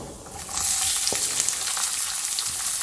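Sliced onions hit hot oil in a pan for vermicelli pulao and sizzle loudly, a steady crackling fry after a brief quieter start, with an occasional stir.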